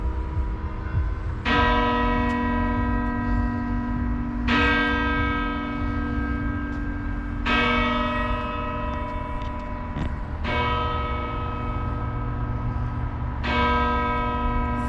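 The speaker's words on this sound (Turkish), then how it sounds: "Tam çan çalışına denk geldik." Church bells ring out in Biel, Switzerland, in slow, evenly spaced strokes, each rich tone lingering and fading before the next, loud and resonant over a low hum.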